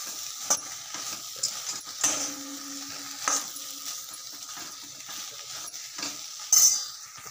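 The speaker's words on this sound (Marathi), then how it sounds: "तर इसले बी चांगलं 2 मिनिटं असं तेल मा कलची लिहावा ना।" Soaked soybean chunks frying in oil in a kadhai, a low sizzle broken by scattered clinks and scrapes of a ladle against the metal pan, close by and without speech.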